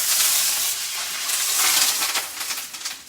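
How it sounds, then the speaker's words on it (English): Butter sizzling and frying in a pan on the stove while cooking a prawn and spinach curry, a steady bright crackling hiss close by that fades slightly toward the end, with no talking. "letting that butter fry off"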